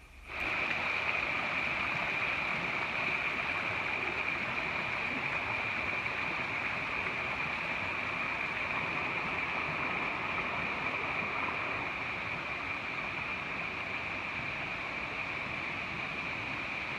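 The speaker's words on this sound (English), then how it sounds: "the water seeps out of this sandstone and keeps all the creeks and waterfalls running" Creek water flows steadily out of sandstone country in Northern Territory in the dry season, a continuous even rushing wash with a faint high steady tone laid over it, with no voices.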